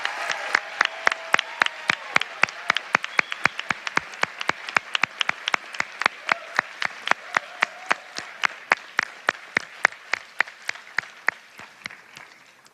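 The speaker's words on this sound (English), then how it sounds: "let's have a round of applause for these amazing graduates" A crowd at a pharmacy graduation convocation applauds, with sharp claps ringing out in quick succession throughout as the clapping slowly thins toward the end.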